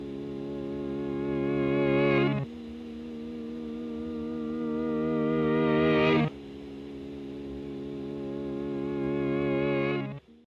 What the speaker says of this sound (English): We have these things I call waves, which are guitar chords that are then reversed.